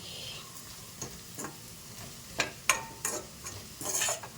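Diced potato frying in a pan for a quick rice dish, a faint steady sizzle with occasional light scrapes and taps of a stirring spoon against the pan.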